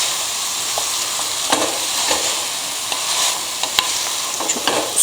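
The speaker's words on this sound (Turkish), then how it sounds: "Çok değil, üzerine bastıracak kadar su koyacağız." A chickpea and pumpkin dish sizzles and bubbles loudly in a pan as water goes in, making a steady hiss with occasional soft clicks and stirring knocks, close up and without speech.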